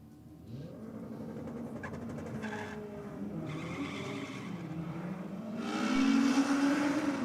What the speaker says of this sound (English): two nice, strong burnouts from these two Hondas